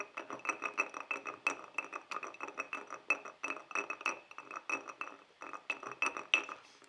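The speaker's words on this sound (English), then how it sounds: "I need to do a Paul Smith finger stir." Bourbon rye is stirred in a glass with a finger, producing a rapid, steady series of light clinks as the ice taps the glass, close and clear with no talking.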